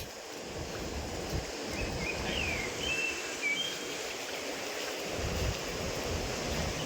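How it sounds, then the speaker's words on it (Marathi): A fast-flowing river's steady rushing water roars continuously, loud and close, with a few faint bird chirps above it and no talking. "इकडं नदीला फोर्स बघा किती आहे डायरेक्ट वाहत जाईल माणूस"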